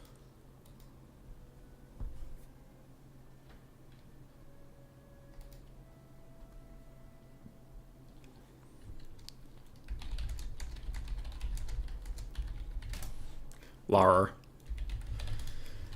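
Computer keyboard typing in bursts of rapid clicking, sparse at first and then dense and continuous toward the end, with a loud clatter near the close and brief speech mixed in.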